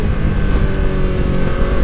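A 2016 Kawasaki Ninja 650 motorcycle engine growls loud and close, a dense, throaty low rumble that pulses continuously while riding.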